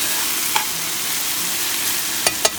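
Crayfish frying in a pan, a steady hissing sizzle throughout, broken by a few short scrapes and clicks as the pieces are flipped around.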